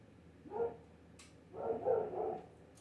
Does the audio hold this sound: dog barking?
yes